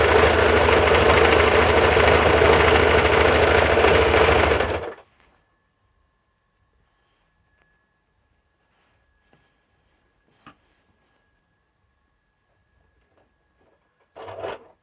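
An electric sewing machine stitches a half collar suit, running in a loud, steady continuous burst for about five seconds, then stopping to near silence with a few faint clicks before a brief final whir.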